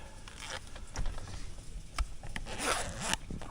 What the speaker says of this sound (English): We just unzip